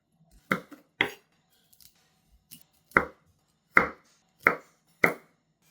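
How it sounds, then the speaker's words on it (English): A knife chops 170 grams of broccoli into small pieces on a board in a home kitchen, giving about seven separate, crisp, close thuds at uneven intervals with quiet gaps between them and no talking. "cut 170 grams of broccoli into small pieces, just like the cauliflower"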